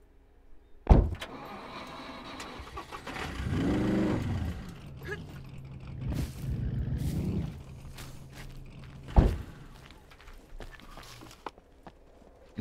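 Car in the survival video game SCUM: a rumbling engine drives and revs over about twelve seconds, broken by loud door thumps and footstep-like clatter, with steady engine noise underneath.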